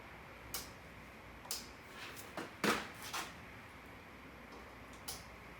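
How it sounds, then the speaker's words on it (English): A high beam relay on a Triumph Daytona motorcycle clicks several times, with sharp, isolated ticks spaced irregularly over a quiet background. "Hear the high beam relay clicking in there."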